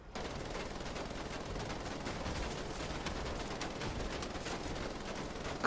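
Dense rattling gunfire and blast noise from the first-person shooter Wolfenstein: The Old Blood form a continuous roar of rapid shots, loud and unbroken throughout, with no voices.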